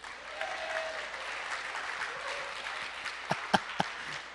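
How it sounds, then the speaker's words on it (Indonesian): Faint, distant applause from a crowd rises as a soft continuous patter, with a few sharper knocks near the end and no clear talk. "Beri tepuk tangan dulu"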